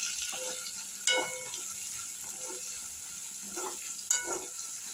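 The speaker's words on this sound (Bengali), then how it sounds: "প্রথমে টমেটোটাকে দিয়ে একটু নেড়ে নেব।" Ripe tomato tossed into a pan of fried onion and garlic for a dhaba-style egg tadka, with soft oily sizzling and a few sharp spatula scrapes and stirs, close and fairly quiet.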